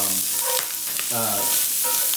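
Cheesy chorizo chimichangas fry in a pan with a steady, loud sizzle and crackle close by, while muffled voices come through faintly beneath the frying.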